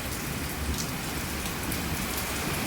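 Heavy rain falls steadily outside a house, an unbroken wash of pattering drops on hard surfaces at moderate loudness, with no speech.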